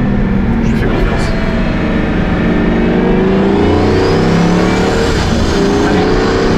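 A Pagani Huayra Codalunga with an 840 hp engine accelerates hard, its loud engine note rising steadily through the revs from inside the car, with a voice speaking over it.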